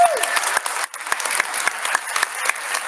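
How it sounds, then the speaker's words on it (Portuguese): An audience at a national meeting lecture breaks into lively applause, dense clapping that continues throughout with a brief dip partway, close and fairly loud. "vamos dar uma resposta para uma nova salva de palmas"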